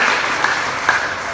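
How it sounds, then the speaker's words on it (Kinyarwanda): Congregation applauding in church, a steady wash of many hands clapping at once, sustained and fairly loud throughout with no distinct individual claps standing out. "Amashyi menshi ku Mana."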